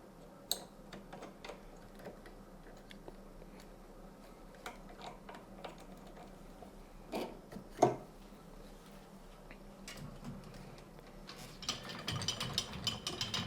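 A compound bow held in a bow press is ratcheted down, giving quiet, irregular mechanical clicks and ticks, with one sharper clack midway and a busier run of ratcheting toward the end. No one speaks.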